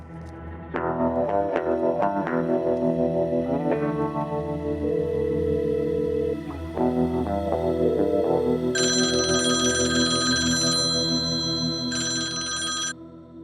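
A melodic phone ringtone plays loudly and steadily, then a brighter electronic ring layers over it toward the end, with no talking.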